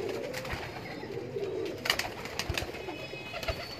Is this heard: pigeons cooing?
yes